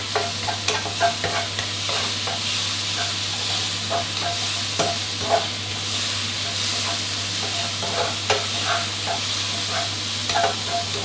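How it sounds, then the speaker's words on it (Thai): Chili and garlic stir-fry in a hot pan for a three-flavour chili sauce over fried tilapia. A steady close sizzle runs with intermittent scraping stirs over a low constant hum. "นี่ก็ผัดให้พริกกระเทียมออกกลิ่นหอมก่อนเลยนะครับ"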